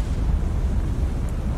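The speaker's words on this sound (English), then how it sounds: "Secondary explosion." Secondary explosion aboard a ship in the naval video game War on the Sea, a dense low rumbling roar that holds steady and loud for its whole short length, with no talk over it.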